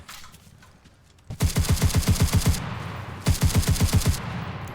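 Rapid automatic gunfire in the WWII shooter game Enlisted, two loud sustained bursts of evenly spaced shots after a quieter opening, each burst about a second long with a brief pause between.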